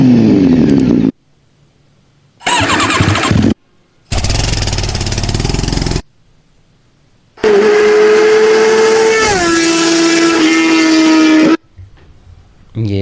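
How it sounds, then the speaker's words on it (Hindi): Heavy motorbike engine bursts, loud and close: short separate roars broken by silence, then a longer sustained engine drone that steps down in pitch before cutting off. "हैवी बाइक वाली हमें आवाज़ चाहिए यहाँ पे।"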